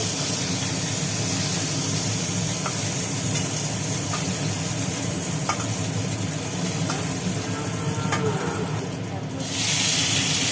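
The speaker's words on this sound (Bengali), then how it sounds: "ভাজো মাছগুলো চিংড়িগুলোকে ভেজে তুলে নেওয়া হচ্ছে" Prawns fry in a pan for a Bengali prawn curry with taro, giving a steady, close sizzling hiss with occasional stirring clicks throughout, ending in a brief louder burst.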